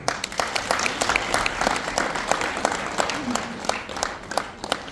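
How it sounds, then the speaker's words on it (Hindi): A gathering at a Shani temple religious event claps together in a steady run of applause, with individual claps audible through the crowd sound and some faint voices underneath. "ताली बजा दे।"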